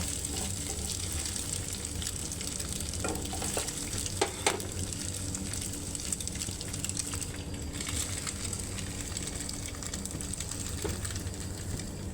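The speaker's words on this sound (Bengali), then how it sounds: "এখন পেঁয়াজ বাজা আর ডিম ভাজা নামিয়ে নেব" Onion and egg sizzling steadily in hot oil, with a few clinks and scrapes of a spatula stirring the pan, no one speaking.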